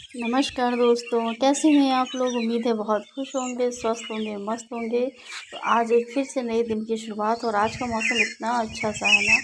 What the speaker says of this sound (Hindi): इन चिड़ियों की आवाज़ सुनिए